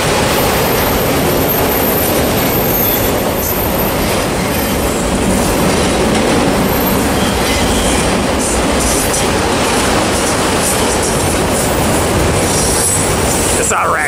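A freight train with autorack cars passes close by at Barstow, California, a loud continuous roar of rolling wheels and rattling cars that fills the whole stretch, with faint wheel squeals.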